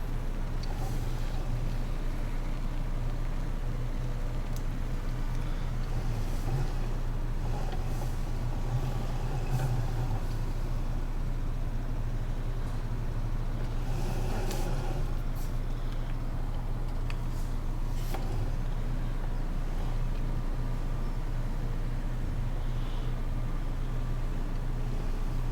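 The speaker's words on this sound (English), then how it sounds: "Yes, I really do need a tractor this big for this wagon." A large tractor engine pulling a wagon in Farming Simulator 17 drones steadily throughout, a continuous low rumble with a constant hum and no talk.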